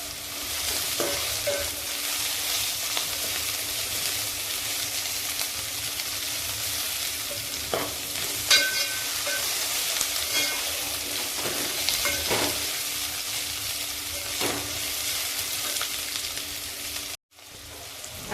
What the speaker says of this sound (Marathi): आता मी त्यामध्ये शेंगदाणे टाकून हे अजून परतून घेते